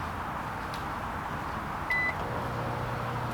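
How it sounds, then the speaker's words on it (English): A microwave oven runs off an Anker Solix C-1000 power station, with a low steady hum and whir and a single short beep partway through. "Microwave is running."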